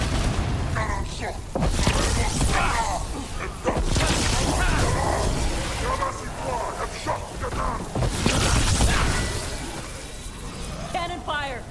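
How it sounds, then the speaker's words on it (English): Repeated cannon fire in a video game, with thudding booms and crashing volleys spread across a chaotic fight, and voices talking over the noise. "Cannon fire! Get clear!"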